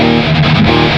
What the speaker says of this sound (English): which is my main high gain distortion.